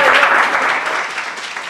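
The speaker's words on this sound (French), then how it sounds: "F2, sous vos applaudissements." Audience applause at a youth eloquence competition, a dense, steady burst of clapping that carries through the whole short moment, close and loud with no voices over it.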